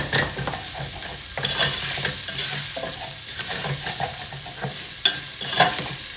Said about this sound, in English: Use a flat wooden spoon to get those bits off the bottom of your pan.